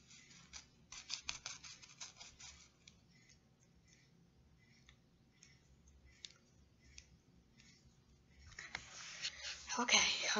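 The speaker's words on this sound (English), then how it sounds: "So yeah, I just got my pencil shredding." A pencil grinds in a sharpener with rapid scratchy clicking, close and faint, stopping and starting, then growing louder near the end.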